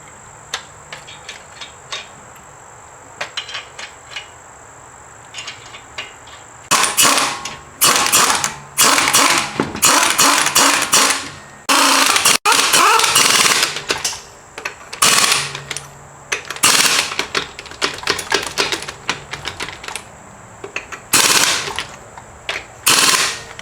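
A ratcheting wrench tightens the control arm bolts on a 2010–2017 Chevrolet Equinox, producing loud, sharp bursts of rapid clicking in irregular spurts with brief pauses between them, over a faint background hum.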